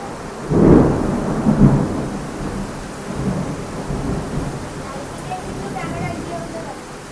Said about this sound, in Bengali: প্রচণ্ড জোরে জোরে বাজ পড়ছে